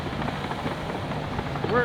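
An aircraft passes over a construction job site, making a steady droning rumble with a rhythmic rotor-like pulsing that swells slightly near the end.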